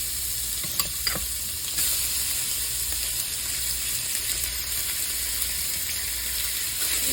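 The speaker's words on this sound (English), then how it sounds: "Let's go ahead and throw in that bacon." Bacon sizzles steadily in a hot pan, a constant crackling hiss with a few brief clinks near the start.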